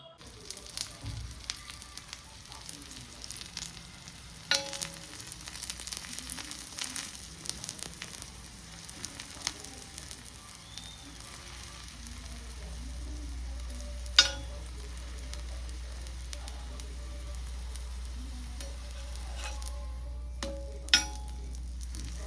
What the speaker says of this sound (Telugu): ఇంకొంచెం తక్కువ ఆయిల్ కూడా వేసుకొని ఇలా ఫ్రై చేసుకోవచ్చు